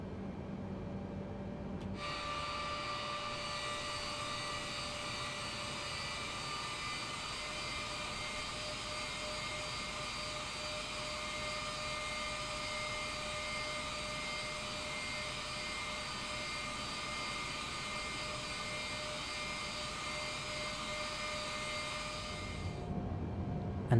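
Simulated Boeing 787-10 jet engines spool up for takeoff in Microsoft Flight Simulator, a steady whining hum with a high-pitched tone that rises in and holds evenly for over twenty seconds before cutting off.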